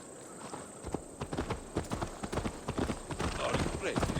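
Horse hooves clop in quick succession as a mount rides through the Assassin's Creed Valhalla game world, loud and rhythmic, with a whinny and game ambience behind.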